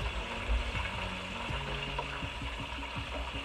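Metal kitchen tongs click and ratchet in quick, irregular snaps while chicken fries, close and fairly quiet with no voices.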